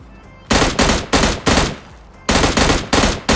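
Bursts of automatic gunfire from a picked-up gun in the mobile battle royale game PUBG Lite, coming as six or seven loud, evenly spaced shots with a short pause between two groups.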